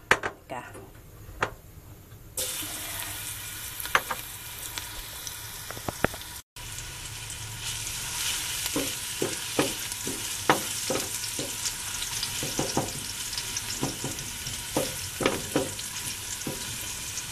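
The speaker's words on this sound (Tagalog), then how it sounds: "Gigisa natin ng bawang" Garlic frying in hot canola oil for Filipino pinakbet, a steady crackling sizzle that runs throughout with scattered clicks and utensil taps, and a voice speaking over it now and then.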